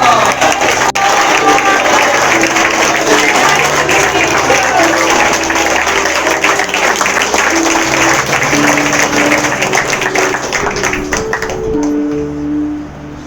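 A large church camp congregation claps continuously and loudly, with some voices and cheering mixed in, tapering off slightly at the end.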